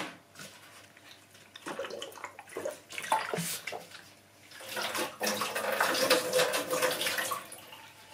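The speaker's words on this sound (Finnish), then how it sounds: "Kylmä vesi pois." Cold water runs from a tap in an indoor setting, a splashing, hissing flow that rises and falls in strength, growing fuller and steadier toward the end.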